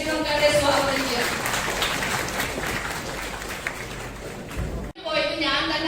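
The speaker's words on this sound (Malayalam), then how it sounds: "ഒരു കൈയടിച്ച് നമുക്ക് അവരെ സ്വാഗതം ചെയ്യാം." At a Women's Day gathering, a crowd claps to welcome arriving guests, a district general secretary and a treasurer. The clapping is steady and dense throughout, cutting off briefly near the end before resuming.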